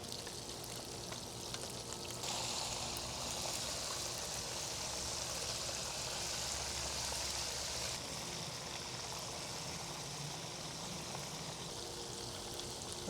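A whole peacock bass fries in oil in a pan that it barely fits, giving a steady, even sizzle and crackle that swells louder midway and then settles, with no voices.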